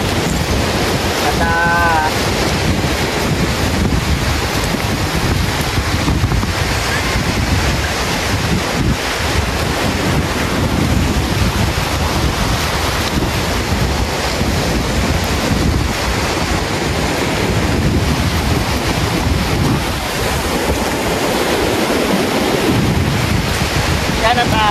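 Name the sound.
big ocean waves on beach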